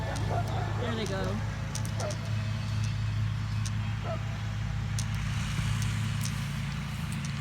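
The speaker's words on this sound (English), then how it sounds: "Six cars since I'm out here." Steady low engine rumble of cars passing on a county road outdoors, a constant droning hum with faint clicks and brief higher tones, a voice briefly heard near the start.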